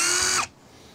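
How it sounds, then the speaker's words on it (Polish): A cordless impact drill running in hammer mode gives a loud, steady high-pitched whine with a rattling buzz at close range, then cuts off abruptly partway through, leaving only quiet room noise. "I teraz patrzymy, jak ta ten wkrętarka udarowa pracuje."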